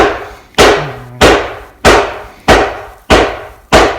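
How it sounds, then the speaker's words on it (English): Loud hammer blows land at a steady rhythm, six sharp strikes about half a second apart, each ringing briefly before the next. "Listen to this loud hammer."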